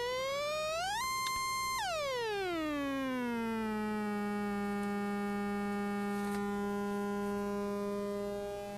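A steady electronic tone from an XR2206 function generator sweeps up, holds briefly, then glides down to a lower pitch and sustains, its buzzy harmonics thinning from triangle toward a smoother, purer sine-wave hum.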